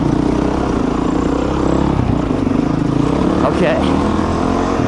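A Honda CRF450X or Yamaha WR250 dirt bike engine runs loud and close at a high idle with a steady droning rumble, while a person speaks briefly over it.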